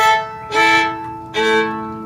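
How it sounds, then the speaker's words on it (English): Fiddle tuned to open AE scordatura, two bowed notes with bright ringing open-string drones, close and clear, played alone. "I need to get this other fiddle out, which just so happens to be tuned in open tuning, AE."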